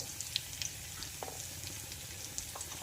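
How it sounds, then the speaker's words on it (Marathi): Onion and spices sauté in oil in a pan for bread vada, giving a soft, continuous sizzle with faint scattered crackles and a light stir, quiet and close. "छानपैकी परतून घ्यायचं आहे"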